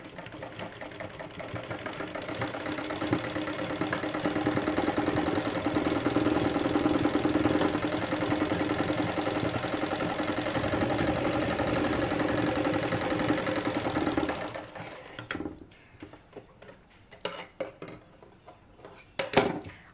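A sewing machine runs steadily for about fourteen seconds, stitching a joint net lace onto fabric, its fast mechanical whir loud and close; it then stops, leaving scattered clicks and handling taps.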